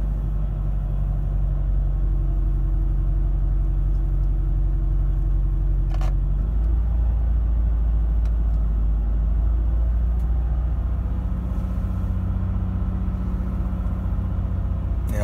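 A 2006 Chevy Equinox idles after a cold start, missing on a cylinder, with a continuous low engine rumble that shifts in tone partway through as the idle changes; close, steady and without speech.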